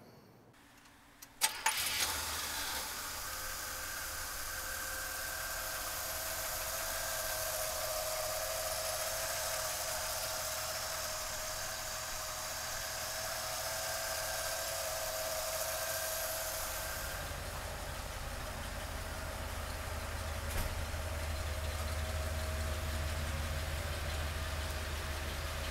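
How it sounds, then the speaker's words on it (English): A 1970 Cadillac Fleetwood engine cranks and catches with a sharp burst near the start, then settles into a steady, loud idle that drones on evenly, with a slight change in tone later. "So come on up and let's fire this Cadillac up."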